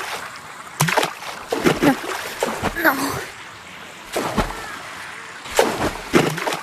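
Water splashes from a game character dropping into the sea on a beach map with a slide in a summer update, several bursts of splashing and sloshing under excited talk.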